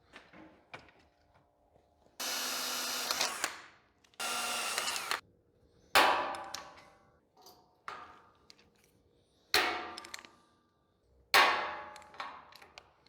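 A data plate is riveted back on with 3/32 rivets: sharp clanks and snaps from a rivet tool come several times at a close, quiet level, interleaved with a few longer rasping bursts, with no talking.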